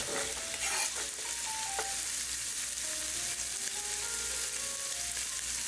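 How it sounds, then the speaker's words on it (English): Bacon cooking in a soup pot gives a steady, even sizzle and hiss throughout, close and moderate in level, with faint scattered pops and no talking. "while this bacon is cooking for the first few minutes"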